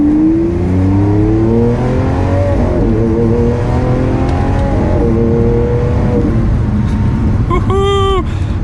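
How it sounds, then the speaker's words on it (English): Lamborghini Aventador LP700-4 in Corsa mode accelerating hard from second gear, its engine note climbing through rising harmonics and then a rapid upshift near the end, loud and close from inside the car with a voice shouting over it. "It's such a such a good sounding car."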